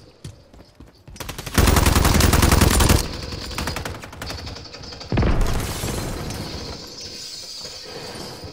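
Gunfire in Call of Duty: MW3 multiplayer: short scattered shots, then two loud sustained bursts of rapid automatic fire with clattering mechanical sounds and fading echoes between them, close and dominant.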